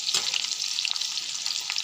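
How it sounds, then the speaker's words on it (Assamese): Chopped onion sizzles in hot oil in a pan, a dense, steady crackle heard up close with no talking. "এতিয়া মই ভাজিম"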